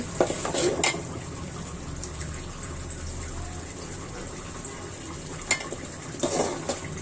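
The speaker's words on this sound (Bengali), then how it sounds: "বেশি নাড়াতে হবে না আস্তে আস্তে নাড়লেই হবে" A utensil scrapes and clinks against a pan of beef and papaya in short bursts near the start and end, with a steady low kitchen hum in between.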